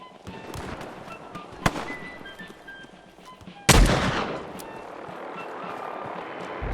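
Scattered gunshots in a post-apocalyptic video game, a sharp crack early on and a louder blast midway, over a steady ambient background with no talking.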